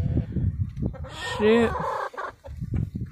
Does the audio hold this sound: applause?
no